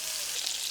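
Bacon fries in a pan as a steady, close, broadband sizzle with fine crackling throughout, constant in loudness and free of talk.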